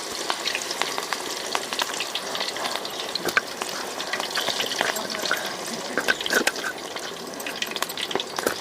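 Quail kebab roasting over an open fire crackles and sizzles steadily, with sharp pops scattered through a continuous frying hiss at close range, no voices.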